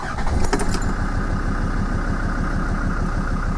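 A Land Rover Discovery 2 with the Td5 diesel engine starts up right after an oil change, cranking and then settling into a steady, loud, close idle with a mechanical clatter and no talking.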